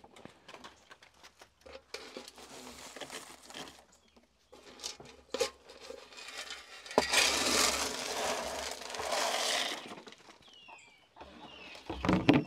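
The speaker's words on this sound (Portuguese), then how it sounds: "Vem cá pra você ver o galo" Rooster on a rural Brazilian homestead crowing loudly and close, with softer clucks and scratching patter before it and a further brief call at the end.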